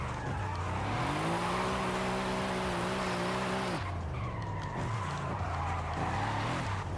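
A Mercedes drifting in Forza Horizon 5, with a loud sustained tire squeal over a droning engine for several seconds. The squeal cuts off and the engine carries on, with rougher revving and scrubbing after it.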